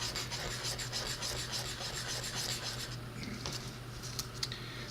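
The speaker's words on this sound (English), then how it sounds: "Sand some more" Sanding a 1/72 Monogram Dornier Do 17Z plastic model kit by hand, repeated scratchy rubbing strokes in a quick back-and-forth and circular rhythm, close and fairly quiet, no voices.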